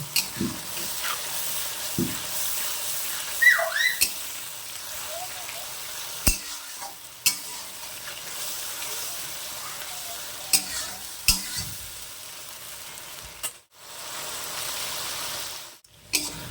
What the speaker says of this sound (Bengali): ভালো করে মশলাটাকে কষে নেব, যতক্ষণ না মশলা থেকে কাঁচা গন্ধ বেরাবে ততক্ষণ কষে নেব।